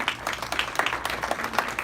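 Crowd applause for an evening event's MC, a dense wash of many hands clapping steadily for a couple of seconds, moderately loud with no clear voices on top.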